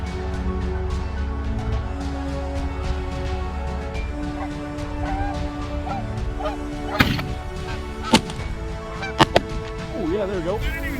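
Canada geese honk repeatedly at a hunt in eastern Montana, calls rising and falling at moderate distance over a low engine-like drone, punctuated by a few sharp gunshot cracks near the end.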